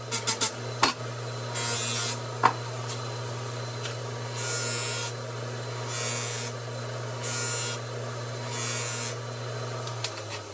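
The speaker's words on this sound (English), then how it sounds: "Now I gotta go strop it on the buffer." A newly made knife stropped against a powered buffer wheel: a steady motor hum runs underneath while the blade meets the wheel in five or six separate hissing, rasping passes, each lasting about a second, with a few sharp clicks near the start.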